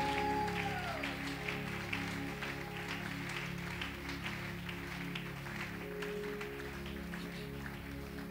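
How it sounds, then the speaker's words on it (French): A church congregation applauding: dense, steady clapping from many hands filling the room, moderately distant and even in level for several seconds, with a few voices and a faint sustained tone underneath. "nous acclamons très fortement le roi des gloires"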